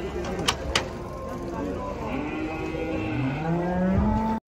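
A large, agitated bull being unloaded from a truck bellows in long, drawn-out moos that rise and fall, loud and close, with brief sharp knocks and faint voices in the background.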